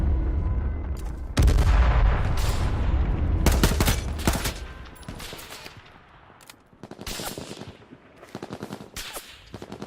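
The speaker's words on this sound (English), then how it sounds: "Stop trying to shoot at me. Everyone's shooting at me." Rapid bursts of gunfire in the online shooter game H1Z1, loud and close, with sustained automatic fire at first followed by scattered sharp shots.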